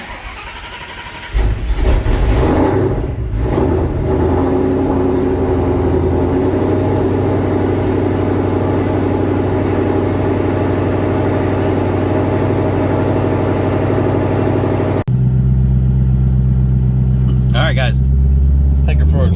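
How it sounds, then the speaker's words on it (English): A 2020 Ford Mustang GT500 with a 3.8 Whipple-supercharged setup making about 1200 whp, started on a very hot day: the engine cranks and fires, settles into a loud, deep, lumpy idle with blips of revving, and a voice speaks over it. "Is it still considered a cold start if it's 100 degrees outside?"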